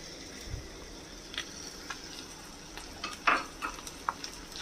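Mutton keema stirred into lightly fried onions in a pan, a soft continuous sizzle with scattered clinks and scrapes of the spoon, close and fairly quiet, no talking.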